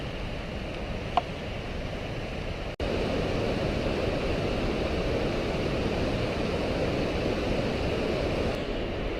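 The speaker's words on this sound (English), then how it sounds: "It follows along the Merced River." The Merced River in Yosemite National Park flows beside a paved hiking trail, a steady broadband rush of water heard continuously at moderate distance, with a faint click early on and no voices.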